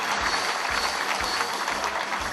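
Sustained applause from delegates at a trade union federation's regular convention, greeting an award plaque recipient; dense, even clapping fills the whole moment with no pauses.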